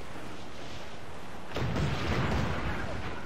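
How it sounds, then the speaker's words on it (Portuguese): Ship cannons fire in a naval battle in the video game Assassin's Creed IV Black Flag: after a steady background rumble, a sudden loud booming volley breaks out and rolls on as a sustained roar of blasts. "Fogo! Estão atirando, senhor!"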